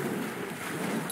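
Boat engines in a Peppa Pig video game produce a steady, broad, rushing rumble mixed with wind-like noise, with no pauses and no voices.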